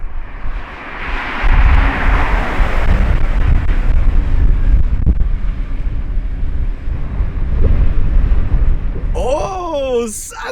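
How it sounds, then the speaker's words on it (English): Strong wind buffets the microphone outdoors in Sant'Agata Bolognese, a loud, constant low rumble with gusts throughout, joined near the end by a brief rising whistle-like tone. "I've never ever seen so much wind in Sant'Agata Bolognese."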